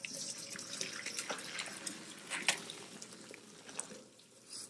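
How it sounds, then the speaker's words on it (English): Hot boiling water from cooked cauliflower pours into a colander in a kitchen, a soft, steady trickle and splash with scattered drips, fairly quiet and close, with no voices. "pour off as much water as I can first, let it drain"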